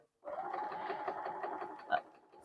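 A computerized long-arm quilting machine stitches rapidly while basting a quilt loaded on a frame with zippered leaders, a soft, steady whirring burst of needle strokes lasting a couple of seconds, fairly quiet and close.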